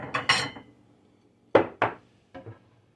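A bowl is pulled out in a kitchen with a few sharp clattering knocks of dishes, a short burst, a pause, then two more clinks and a softer final pair.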